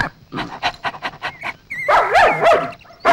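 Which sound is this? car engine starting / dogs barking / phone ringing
dogs barking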